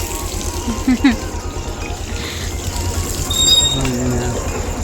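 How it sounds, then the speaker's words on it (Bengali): Water pours steadily while someone bathes at home, a constant splashing rush with a brief trickling change near the end and faint voices in the background. "আমরা বাড়িতে এসে গেছি যেখানে জল পড়ে দাদু চান করছে"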